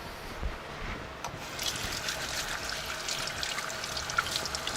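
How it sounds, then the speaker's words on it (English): Running water splashing and trickling steadily over hands being rinsed, a close, continuous wash at a sink with no talk. "let me rinse my hands off here"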